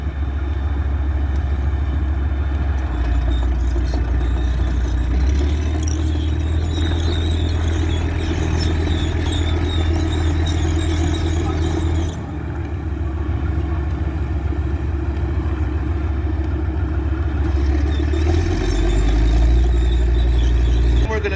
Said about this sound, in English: Listen to how powerful the engine is